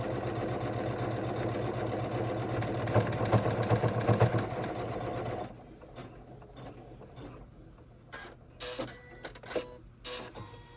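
A home embroidery machine stitches an in-the-hoop mini bag charm with a flap, a steady, close mechanical whir and rapid needle clatter that runs continuously, then drops to a quieter hum with scattered clicks and knocks.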